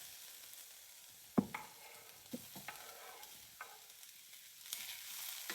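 Onion and tomato frying in a pan make a soft, faint sizzle, broken by several sharp clinks and scrapes of stirring. No one speaks.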